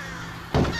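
A crow caws once, loud and close, a short harsh burst over a faint background hum in the VR horror game Face Your Fears.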